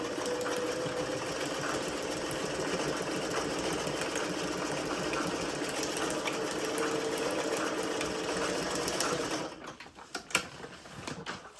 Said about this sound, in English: We're just sewing those layers.